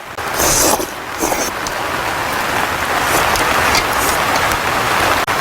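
Heavy rain drums steadily and loudly on a greenhouse roof overhead, a dense continuous hiss with scattered sharper drops and no voices.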